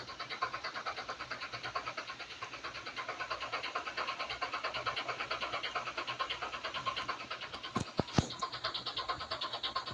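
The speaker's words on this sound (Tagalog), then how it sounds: "Gagamitin ko yung isa kong jeep" A jeep engine idles in a steady rhythmic chug with a throbbing, pulsing beat, and a couple of sharp clicks or knocks are heard near the end.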